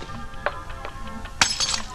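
Glass clinks and shatters in a shop aisle, light tinkling taps followed by a sharp, bright crash and scattered ringing fragments, moderately loud against quiet background.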